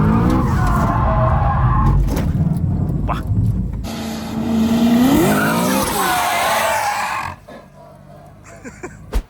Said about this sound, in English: Gonna spin out, obviously, because you're gonna run out of steering angle.